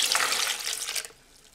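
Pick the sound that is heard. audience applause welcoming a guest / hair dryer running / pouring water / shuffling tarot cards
pouring water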